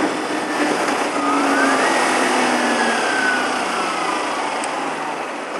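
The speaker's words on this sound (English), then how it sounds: "The engine's warm, it's primed and ready." A warm motorcycle engine runs steadily at a smooth, even drone, close and fairly loud throughout with no gaps, heard alone on a street.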